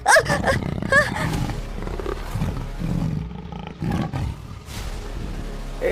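A tiger in a Hindi fairy-tale drama gives loud, close, rasping roars and growls that rise and fall in bursts, with brief vocal sounds mixed in among them.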